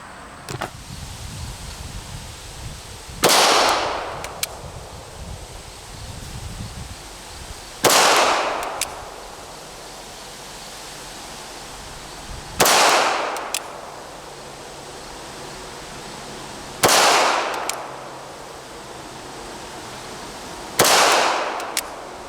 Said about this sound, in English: Okay, so 5 shots, basically they're all touching.